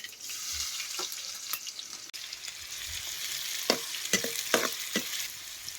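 Finely chopped onion hitting hot oil with mustard seeds and cumin in a pan over a wood-fired stove, giving a soft continuous sizzle with sharp crackles and pops scattered through, fairly quiet and without talk.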